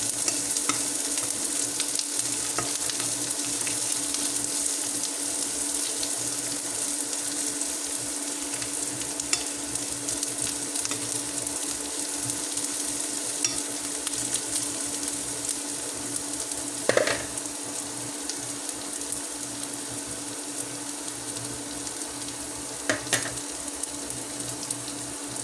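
Garlic fries in a pan with a steady, close sizzle that runs throughout, broken by a few soft stirring scrapes and light clinks, with no voices.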